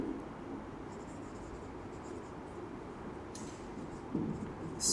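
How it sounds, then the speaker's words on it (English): Pen or pencil writing by hand on paper during a physics lesson on Kirchhoff's laws, a soft continuous scratching close by, steady and low in level with no talk over it. "Still writing few words here."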